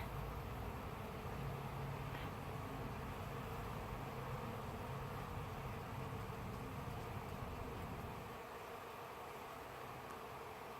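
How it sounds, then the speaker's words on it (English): Bees buzz around a hive entrance in a faint, continuous hum, steady and low in level, with a slight drop in intensity near the end and no talking. "We've got bees coming out of the entrance here."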